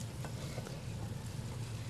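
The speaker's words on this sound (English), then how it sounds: "keep tossing the onions" Onions fry in a pan as they are tossed with a spoon, a low, continuous sizzle with soft scraping and stirring noises, close and fairly quiet, no talking.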